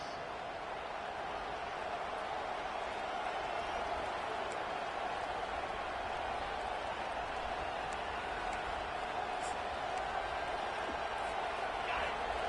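Dense football stadium crowd noise during a timeout in a Georgia game against Texas, a steady, loud roar of cheering that holds evenly throughout with no breaks.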